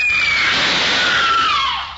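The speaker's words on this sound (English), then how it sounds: "That scream, high enough to shatter crystal." A piercing, high-pitched scream from a radio drama cuts in loudly and holds steady for about two seconds, its pitch gliding downward before trailing off.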